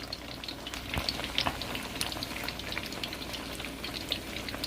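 Shrimp egg foo young fries in a pan with a continuous close sizzle and scattered small pops and crackles, with no talk.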